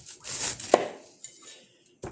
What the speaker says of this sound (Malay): hari ini kita nak tunjuk cara potong nanas ataupun pineapple. Pertama kita potong atas dia